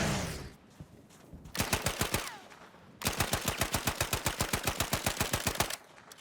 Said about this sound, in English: A suppressed gunshot,